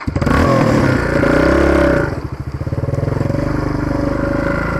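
A Dragon 200 enduro motorcycle engine revs hard and loud at close range while the bike struggles for grip on wet clay, a sustained high rev that drops back to a rough, pulsing idle.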